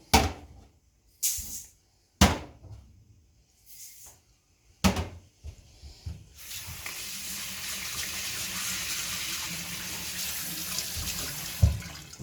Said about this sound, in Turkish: Bu arada pirincimizi yıkayalım.